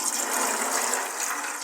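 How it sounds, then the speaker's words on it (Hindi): Water pours steadily into a pressure cooker holding chickpeas, a continuous bright splashing gush heard alone for the short moment. "थोड़ा सा और पानी डाल देंगे।"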